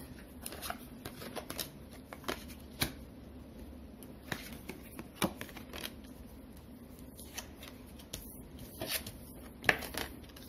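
Fontaine tarot cards are handled and shuffled in a quiet room, producing soft scattered clicks, slides and taps that come irregularly throughout.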